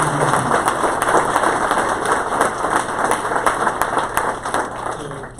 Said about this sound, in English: give a big round of applause and welcome our new neighbor